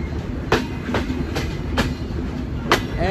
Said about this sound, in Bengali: রাত ঠিক 3:30টায় আমরা প্রবেশ করছি যশোর জেলার নোয়াপাড়া রেলওয়ে স্টেশনে